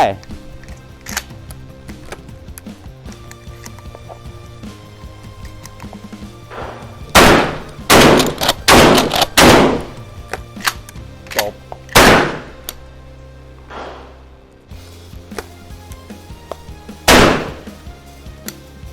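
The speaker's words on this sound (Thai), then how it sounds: "ผมยิงไปได้แค่นัดเดียวนะครับ" Pump-action shotgun shots fired in a speed comparison ring out as several loud, sharp blasts, one standing apart and others in a quick cluster, with talk in between.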